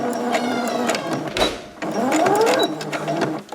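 A sewing machine runs in bursts while stitching a fabric snood, switching between reverse and forward stitches, with a short pause partway through; the whirring motor sounds close and steady.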